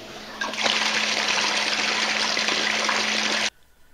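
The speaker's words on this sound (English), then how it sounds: "I attached a 45-degree elbow to shoot the water down into the tank" Water pours from a 45-degree pipe elbow down into a fish tank in an aquaponic system, giving a steady, close splashing rush that starts abruptly, holds for about three seconds, then stops, leaving a faint hum.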